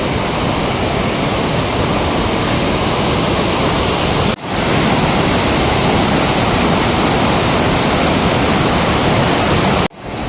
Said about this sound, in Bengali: দেখতে পাচ্ছ এই সেই ঝর্ণার জল নেমে আসছে ওই পাহাড়ের মাথা থেকে